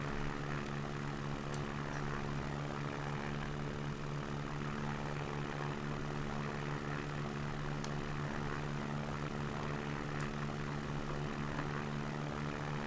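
Light aircraft on its takeoff roll in the SimVenture 2020 flight simulator, a steady propeller engine drone that holds constant for the whole stretch with no talk over it.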